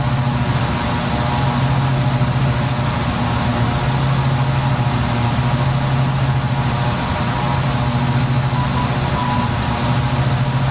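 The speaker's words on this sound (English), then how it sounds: "Takes a while to slow this airplane down." Steady, loud turboprop engine drone from a Jetstream 41 airliner on approach with reduced power, a continuous low hum and broadband roar that holds without break and has no talk over it.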